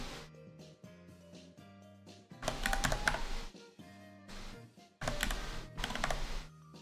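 Values typed on a computer keyboard, close and clear in bursts of rapid key clicks separated by short pauses, with a faint background tone.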